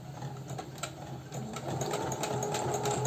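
A sewing machine stitches a straight seam on a small baby slipper, running close with rapid, steady needle clatter that grows slightly louder.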